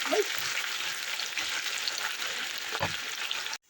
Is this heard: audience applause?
no